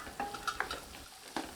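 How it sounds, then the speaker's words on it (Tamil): Beans and carrots being sautéed in a pan for vegetable fried rice: quick, uneven strokes of a spoon scraping and stirring over a soft, steady sizzle, close by, with no talking. "இந்த பீன்ஸை சேர்த்து நல்லா வதக்கி விட்டுக்கலாம்"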